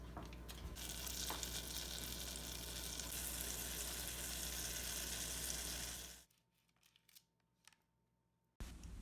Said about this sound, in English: While the butter is starting to melt and kind of bubble up